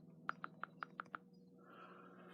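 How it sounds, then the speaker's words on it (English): Six crisp, evenly spaced taps from an iOS 10 smartphone touchscreen keyboard, backspace then space, followed by a soft hiss of room noise. "That's the backspace. That's the space."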